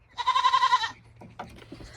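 A goat on a farm with young kids gives one loud, close, wavering bleat lasting under a second, followed by faint scuffling and rustling.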